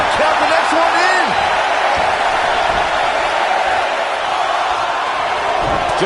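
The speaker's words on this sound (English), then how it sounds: "Listen to this crowd count the next one in." Roaring video game arena crowd from a WWE 2K19 women's wrestling match, a loud steady wash of cheering and chanting that carries throughout, with commentary voices underneath.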